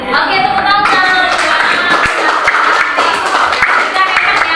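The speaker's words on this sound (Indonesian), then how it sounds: "tepuk tangan" Lively applause from a classroom of students, many hands clapping steadily for several seconds, with voices mixed in underneath.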